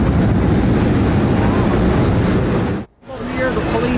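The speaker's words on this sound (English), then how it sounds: "A huge explosion now raining debris on all of us." Roaring rumble of an explosion at the World Trade Center towers with debris raining down, loud and continuous, briefly dropping out before the noise resumes.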